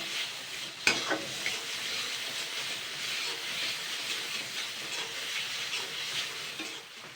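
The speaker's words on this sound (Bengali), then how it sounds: "এবারে জাস্ট এটাকে আমি দু মিনিট নাড়াচাড়া করে নেবো" Ash gourd leaf paste frying and being stirred in a pan: a steady close sizzle with soft scraping of a spoon, one sharp knock near the start, no talk.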